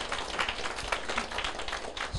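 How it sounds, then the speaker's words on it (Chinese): An audience claps their hands together at a Taiwan Civil Government training seminar, a dense, steady patter of applause filling the room without pause and without any voices over it. "我们大家拍拍手鼓励这些高沙同胞"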